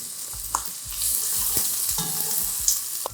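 Onions and garlic paste fry in hot oil for a Trinidadian curry chicken, a steady bright sizzle with soft stirring scrapes and thuds of the spoon, close and alone.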